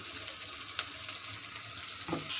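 Mustard paste with turmeric fries in a pan for a fish curry, giving a steady close sizzling hiss with a couple of faint stirring scrapes, no voices present.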